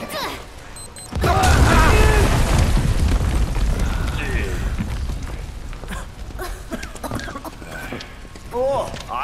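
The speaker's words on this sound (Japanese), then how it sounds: "爆発！" Bomb blast in the Final Fantasy VII Remake game: a sudden loud boom about a second in, followed by sustained rumbling debris and noise, with game voices and effects continuing afterward.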